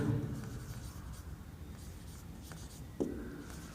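Hand-writing an equation during a class 12 physics lesson on alternating current, a close continuous scratchy stroke sound with a small tap near the end, no talk.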